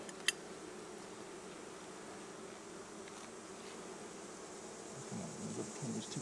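Honey bees buzz steadily in an open beehive while a frame is inspected, a low continuous hum filling the clip with a brief sharp click near the start and slightly louder buzzing toward the end.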